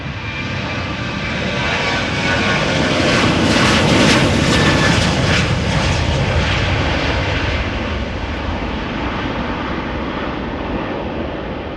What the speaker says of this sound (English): Next up, Boeing 737 KLM outbound to Athens.